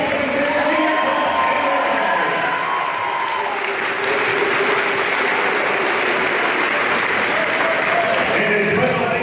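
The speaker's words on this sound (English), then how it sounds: "Fans, let's have one more big round of applause for the 2026 senior class." Basketball game crowd in a gym applauds the senior class, loud sustained clapping and cheering from many fans for about nine seconds, with scattered shouts and an announcer's voice over the top.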